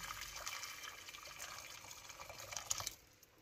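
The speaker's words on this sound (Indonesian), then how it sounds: "Tuang air ke dalam panci." Water pours into a cooking pot for steaming salmon, a steady close splashing stream lasting about three seconds before stopping.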